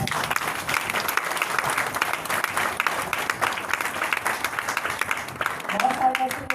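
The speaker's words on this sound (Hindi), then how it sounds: "मैं चाहूँगी आप सभी लोग अपने लिए जोरदार तालियां बजाएं" An audience at an Amway business presentation claps loudly on cue, a dense, sustained burst of many hands that starts to thin near the end as a voice comes back in.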